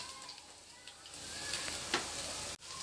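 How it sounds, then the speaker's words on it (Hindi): Garlic fries briefly in a pan for white sauce pasta, a soft, quiet sizzle that rises slightly before a short break near the end. "इसमें डाल रहे हैं अब लहसुन, हल्का सा लहसुन को भून लेते हैं।"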